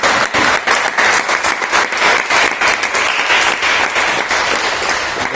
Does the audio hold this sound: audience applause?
yes